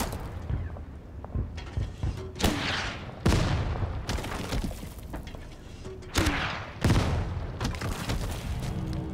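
Mortar and artillery fire in the tank strategy game Total Tank Generals: loud, sharp blasts recur every few seconds, each trailing into rumbling decay over continuous battlefield noise.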